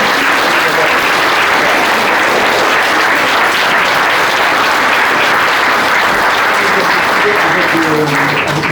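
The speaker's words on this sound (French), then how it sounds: "Les Normandie Riveurs, on peut les applaudir." A large audience applauds at a mayor's New Year greetings ceremony in France, a dense, steady wash of clapping that stays loud and continuous throughout, with faint voices underneath.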